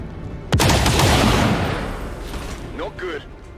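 Burst of automatic gunfire in the video game XCOM 2, a sharp loud onset followed by sustained rattling fire that fades, then a few synthetic game effects, with a voice speaking.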